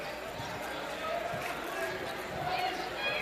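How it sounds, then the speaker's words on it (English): A crowd murmurs at a high school basketball game between Montgomery and Cardinal Newman, a steady diffuse din of chatter and shuffling in a gym, with a commentator's voice over it. "nice to see a crowd at a game"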